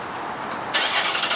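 A Porsche engine cold-starts: a brief hiss, then the motor catches with a sudden loud burst and settles into a fast, pulsing rumble, close and alone.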